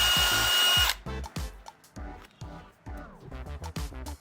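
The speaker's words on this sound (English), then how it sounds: "So I'm going to go with this 5/16 drill bit. Again, a little piece of tape on the paint will help make a cleaner hole, and I'll drill it out on both sides." A power drill with a 5/16 bit bores through a painted Cadillac CTS spoiler; a long whine first, then a string of short, stuttering bursts, close and fairly loud.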